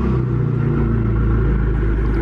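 A car engine revs from behind the car during a look at a showroom car, likely an Audi, heard as a loud, close, deep and steady rumble with no talking.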